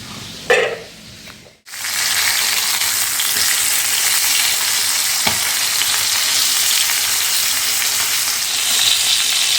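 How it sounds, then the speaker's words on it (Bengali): Pomfret fish fries in a pan with a loud, continuous sizzle. A few clicks come first, then a short break before the steady frying takes over. "মাছটা তো খুব সুন্দর করে ভাজা হচ্ছে"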